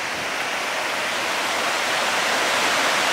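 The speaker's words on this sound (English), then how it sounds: "But check out this waterfall." A waterfall beside a hiking trail in Waterton Lakes National Park roars with a loud, dense, unbroken rush of falling water, close and steady from start to finish, with no talking.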